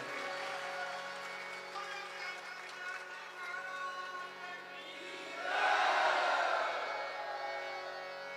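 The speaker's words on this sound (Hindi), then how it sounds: "एक बार पुनः जोरदार तालियां बजा करके संतों का अभिनंदन करें।" An audience at a religious cow-welfare katha festival in a gaushala in Palwas, Sikar applauds loudly to welcome saints, clapping rising sharply midway over a sustained musical drone and voice.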